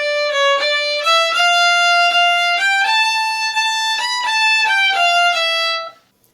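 A solo violin plays a song in a long-short practice rhythm, with clear, bright bowed notes stepping up and down in steady pairs before stopping abruptly.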